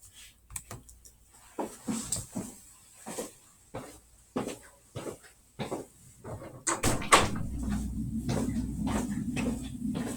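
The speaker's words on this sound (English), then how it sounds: "Sorry, had to shut my door." Clicking and bumping sounds come from a home desk, then a door is shut with a thud, leaving a louder steady rumble of room noise afterward.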